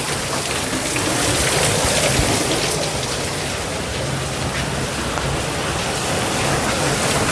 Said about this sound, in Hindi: देखिए कितना बारिश हो रहा है।